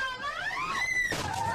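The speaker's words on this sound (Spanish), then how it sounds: "Aquí podemos escuchar los gritos de las personas adentro del articulado." Passengers scream in panic inside an articulated bus as its windscreen is struck during a day of violent street protests and blockades; several shrill, wavering cries overlap loudly and continuously.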